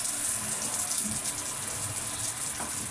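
Shower water runs in a steady, faint hiss, a continuous broadband spray with no talking over it.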